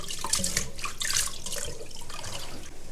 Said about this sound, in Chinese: 黄花菜现在已经泡花了，给它倒在清水中，给它清洗干净。